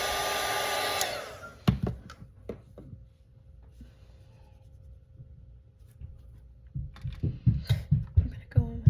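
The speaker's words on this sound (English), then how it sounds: "I'm gonna dry this really fast." A hair dryer blows loudly for about a second to dry a watercolour painting, then cuts off, leaving faint brush and paper scratching and handling noises that build into a series of knocks and clicks at the end.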